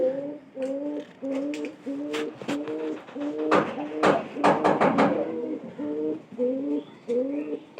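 Pigeons cooing close by in a steady, repeating rhythm, with a few sharp knocks and rustles mixed in.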